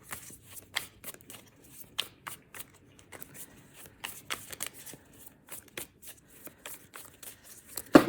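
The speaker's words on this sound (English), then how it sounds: "See how all these cards are like flipping in the deck?" A deck of tarot cards is shuffled by hand, giving close, quiet riffling and flicking bursts in an irregular rhythm with a louder snap at the end.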